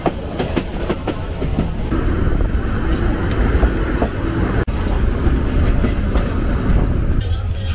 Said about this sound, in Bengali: এই মুহূর্তে কিশোরগঞ্জ এক্সপ্রেস এসে দাঁড়িয়েছে মানিকখালী রেলওয়ে স্টেশন